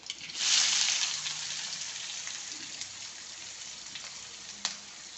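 Chopped onion dropped into hot oil with mustard seeds, cumin and garlic gives a bright burst of sizzling that settles into a steady, close frying hiss, with a faint clink near the end.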